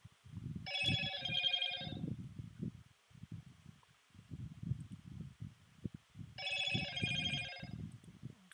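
Telephone ringing in two separate bursts of electronic trilling, several seconds apart, with soft rustling and handling noises filling the gaps between rings.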